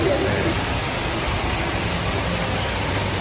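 A waterfall in Singapore, viewed from five floors up, gives a constant broad rushing roar of falling water, steady and fairly loud from start to finish.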